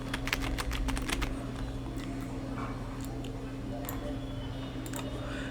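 Steady typing on a computer keyboard, a run of close, crisp key clicks that is densest at the start, over a constant low electrical hum.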